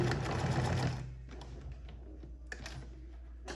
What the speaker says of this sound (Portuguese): vou dar o retrocesso